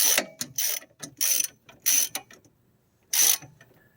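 Ratchet wrench tightening a strut bolt on a 2005 Toyota Sienna, several quick bursts of loud clicking ratchet strokes separated by short pauses, close up with no voices.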